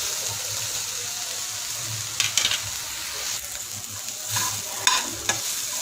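Masala frying in a pan in an Indian home kitchen, with a steady oily sizzle throughout and a few sharp scraping stirs near the middle and near the end.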